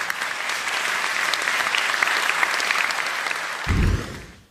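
Studio audience on a German political talk show breaks into steady, dense applause that fills the room and swells briefly before fading out.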